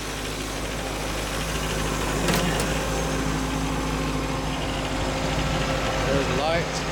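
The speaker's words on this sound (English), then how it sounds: "The 302 V8. Runs nice and smooth." A 302 V8 engine in a restored 1930 Ford Model A four-door idles steadily with a low, smooth rumble throughout, close by, with a faint voice briefly heard over it.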